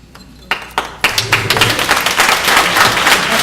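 Audience applause at a public hearing in Vineland, starting with a few scattered claps and swelling into sustained, dense clapping from a crowd in a large room.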